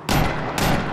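A player's gun fires in a Guerrilla Games video game: two quick, loud, close bursts, the second starting about halfway through, with no voices.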